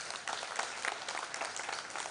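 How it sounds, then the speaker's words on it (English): Faint, steady applause from an audience at a strategy launch event, an even patter of many hands clapping at a distance without a break. "Another round of applause for him."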